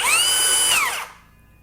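A woodworking power tool's blade spins freely at roughly 1,700 to 2,000 RPM without cutting, a loud steady high whine lasting under a second before it winds down and fades away.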